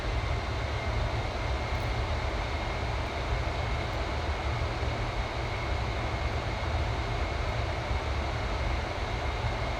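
Jet engines of an Avro Vulcan B Mk2 in a flight simulator give a steady broadband roar with a faint whine above it, constant and unchanging throughout, with no talking.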